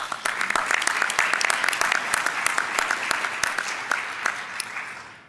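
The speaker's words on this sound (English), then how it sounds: "A big round of applause" Conference attendees at a session on home parenteral nutrition break into warm applause, a close mix of crisp individual claps over a dense crowd patter that tapers off toward the end.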